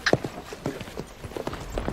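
Horse hooves clip-clop in an irregular series of sharp, close knocks in a 1997 Western film scene, with faint voices in the background.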